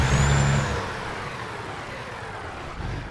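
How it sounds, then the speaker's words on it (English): Peterbilt 387 truck in American Truck Simulator, one short loud rev of the heavy engine at the start that falls away to a lower idle rumble, then a brief swell near the end. "That's how she sounds when she revs."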